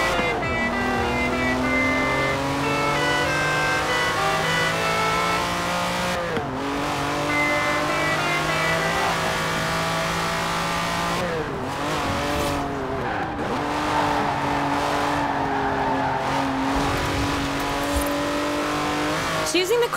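A Lamborghini Countach in Forza Horizon 4 revs hard and climbs through the gears, its engine tone rising and dropping at each shift, with brief tire squeal, loud and close under a talking voice.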